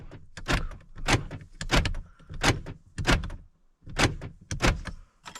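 The liftgate door lock actuator on a 4th-generation Toyota 4Runner whirs and clunks in short mechanical bursts, about seven quick cycles in a row, close up with no talking.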